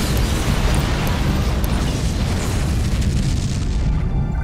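A Romulan vessel explodes in the Star Trek Legacy space combat game, a loud sustained rumbling blast with crackling debris that swells and then slowly decays.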